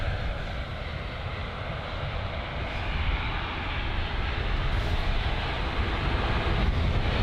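Jet airliner landing at Bristol Airport, a steady broadband engine roar that builds gradually as it approaches, fairly loud and continuous with no voices.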